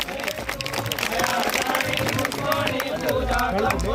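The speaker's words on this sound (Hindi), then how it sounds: "जोरदार तालियों से स्वागत और सम्मान" A school audience applauds to welcome a visiting guest at a felicitation in a higher secondary school hall, with dense clapping and crowd noise running steadily throughout and speech mixed in.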